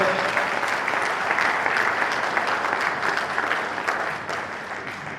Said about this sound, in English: So clap for Bayelsa.